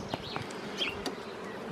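Honeybees buzz around an opened hive during a spring inspection, a soft steady hum with a few louder passes as individual bees fly close.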